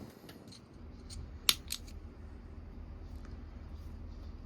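Scissors snip off the excess fishing line while a tassergal rig is being tied: one sharp, close cut stands out alone over faint background hiss, with a few softer clicks around it.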